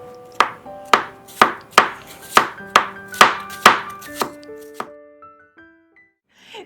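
Knife chopping food on a cutting board, about eleven sharp close knocks at a steady, unhurried pace that thin out and fade toward the end.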